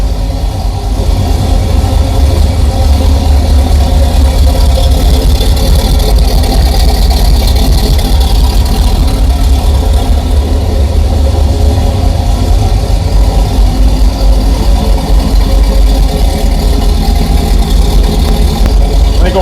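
Hearse fitted with aftermarket coffin-shaped mufflers idling inside a garage shop, a loud deep rumbling exhaust with a steady throb, close and continuous, with a slight rise in revs partway through.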